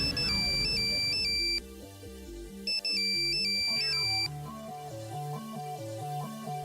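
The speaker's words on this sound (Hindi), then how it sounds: "दिशा जी फोन नहीं उठा रही" A mobile phone ringtone rings loudly in a repeating melodic pattern, with a brief pause and a second burst of rings, the call going unanswered in a Hindi TV serial scene.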